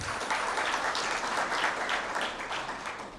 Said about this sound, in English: Another round of applause for our CEO.